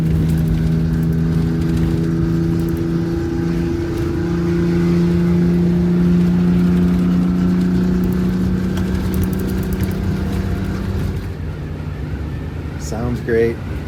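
A Detroit Diesel engine in an MCI coach accelerating on a test drive after a Jake brake repair, heard from inside as a steady low drone with a rising, shifting tone, and cabin noise underneath.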